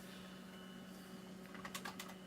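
A computer keyboard in use for quick shortcuts during an OS/2 1.21 installation gives off a faint cluster of rapid keystroke clicks near the end, over a steady low machine hum.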